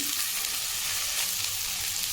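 Constant, close sizzling of okra frying in hot tempering oil, a dense crackling hiss with no voices.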